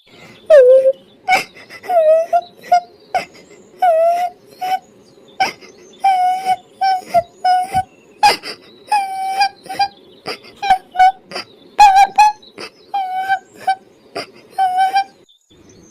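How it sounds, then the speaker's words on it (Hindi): A squeaky, high-pitched cartoon bird voice sobs and wails in repeated short bursts, crying over and over with brief pauses between cries. "तभी उन्हें किसी के रोने की आवाज आती है"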